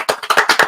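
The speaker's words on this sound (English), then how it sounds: "Let's give them a round of applause." A small studio audience on a bass-fishing talk show claps for its guests, a quick burst of about seven sharp, close, evenly spaced claps, loud and with no talking.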